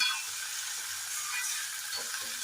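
Green beans stir-fried in a pan for a Kerala mezhukkupuratti, giving a steady, soft sizzle and hiss with faint stirring scrapes, close and moderately quiet, with no talk.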